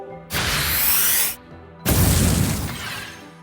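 Two bursts of fiery, crashing noise from a Fire Fang attack in a Pokémon card video game, each roughly a second long with a short gap between, loud and broadband with no voices over them.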